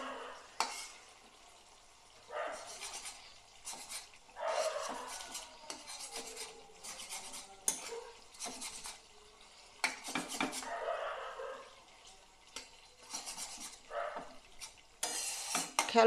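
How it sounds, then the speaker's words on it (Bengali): Bare hands squish and stir ash gourd leaves through spice paste in a metal dish, producing intermittent wet mixing and clinking bursts with quiet pauses between, no talking. "এবার পাতাটা এইভাবে আমি ঘেঁটে দেব।"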